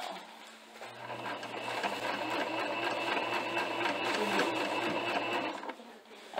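A sewing machine runs steadily while stitching a dress, its motor whirring with a fast mechanical rattle at close range and keeping an even pace for several seconds before slowing to a stop.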